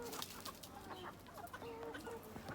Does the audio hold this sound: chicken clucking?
yes